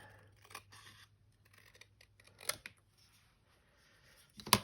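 Scissors make a few quiet, separate snips through a scrap of paper during a craft decorating job, close but faint, with rustling between the cuts and a sharper snip at the end.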